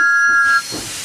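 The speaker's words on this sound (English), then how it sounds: "First, Thomas puffed to the quarry." Thomas the Tank Engine lets out a short high whistle that gives way to a loud hiss of escaping steam, all within about a second.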